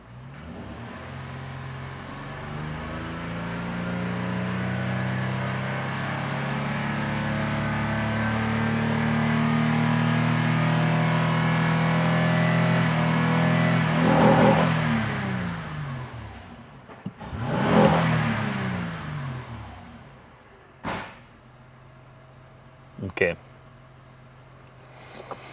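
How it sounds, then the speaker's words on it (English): An Acura MDX engine with a check engine light on revs up, climbing from idle into a sustained rising roar, then drops back, followed by a few sharp quick throttle blips, with a voice talking faintly underneath. "So now I'm going to rev up the engine."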